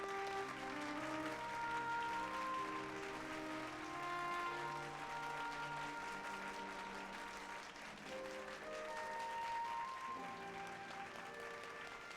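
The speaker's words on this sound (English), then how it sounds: "Oh, that clap." Clapping applause in the video game Final Fantasy XIV, a steady crowd of clapping blended with soft in-game music, faint and continuous throughout.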